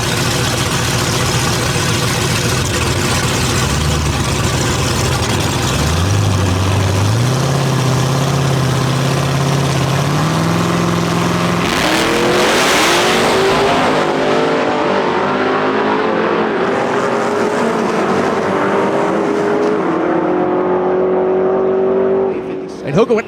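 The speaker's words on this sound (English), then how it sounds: "This car has more left in it, and they're going to start to ramp this thing up" An LT-powered full-size pickup truck race engine idles and then revs hard, its pitch climbing steeply before dropping off. The engine is loud and close, with commentary heard over it.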